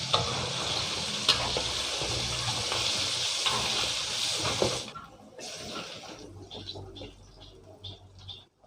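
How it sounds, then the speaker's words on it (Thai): Chicken sizzles and crackles frying in hot oil, a dense loud hiss with occasional pops, then it drops off and quieter clinks and stirring follow. "เราก็จะมาทอดส่วนที่เหลือกันต่อนะครับ"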